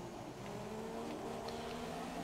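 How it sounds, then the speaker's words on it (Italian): Race car engine failing in the F1 2017 video game at Monte Carlo, a steady droning engine tone with sustained harmonic hum at fairly low level, no voices. "il motore è andato"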